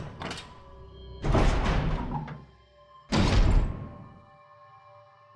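A heavy door in the Resident Evil video game opens with two loud, booming thunks about two seconds apart, each sweeping into a rumbling slide before the sound falls quiet.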